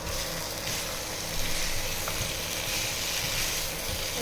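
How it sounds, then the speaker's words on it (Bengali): Potatoes and peas stir-fried with spices in a pan make a dense, continuous sizzle with occasional soft stirring sounds, close and steady, no speech. "সব কিছু দিয়ে একসঙ্গে কষাবো"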